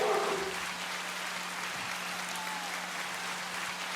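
A round of applause for a guest arriving in a podcast studio, a faint, steady patter of clapping with a low electrical hum underneath and no talk.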